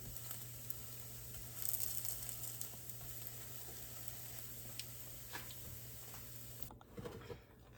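Cornbread frying in a hot pan of oil gives a steady, close sizzle with light crackles and a few scraping clicks, then it quiets near the end.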